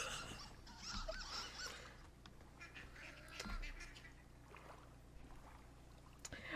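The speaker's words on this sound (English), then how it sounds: "I hear ducks." Ducks quack at a distance beside water, faint under steady outdoor background noise and wind, with a few sharper bumps and no talking.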